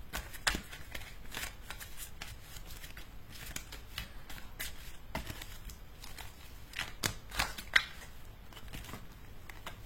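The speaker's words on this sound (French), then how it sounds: "les cartes se mélangent difficilement" Tarot cards shuffled by hand, a steady run of quiet riffling and flicking with sharp snaps scattered throughout. The cards sound stiff and catch at times, and no one speaks.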